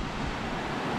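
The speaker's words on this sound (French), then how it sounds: "Et alors maintenant on voit les grosses vagues commencent à arriver là." Big ocean waves roll in near an island off the Spanish-speaking coast, a steady broadband roar of surf mixed with wind buffeting, with no distinct breaks over the short stretch.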